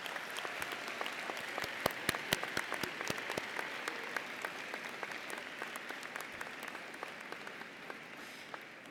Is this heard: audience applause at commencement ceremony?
yes